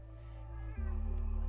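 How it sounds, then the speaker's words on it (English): A pet cat meows close by, a sustained drawn-out call that shifts pitch partway through, with no talking over it. "This is my cat, Izzy."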